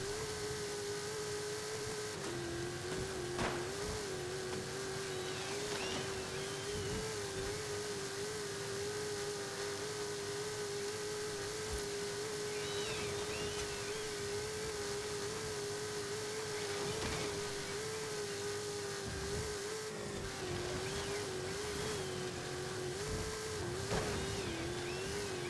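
A race car engine from Forza Horizon 5 drones at a steady, high pitch as it circles a custom track, holding an even note with brief dips and swells on shifts, continuous and fairly loud with no talking.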